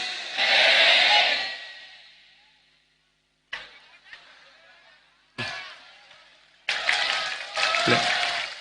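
Audience members at an outdoor Islamic sermon clap in separate bursts: a long round at first, then short scattered claps, then two louder rounds near the end.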